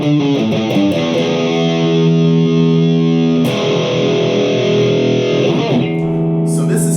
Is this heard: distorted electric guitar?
yes